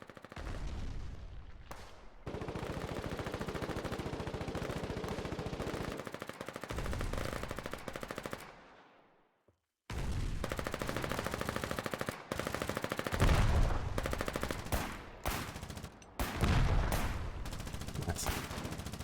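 Rifle and pistol fire in the Foxhole war game rattles in long, dense bursts and rapid strings of shots, nearby and loud, with a brief silent gap before the shooting resumes in choppier volleys.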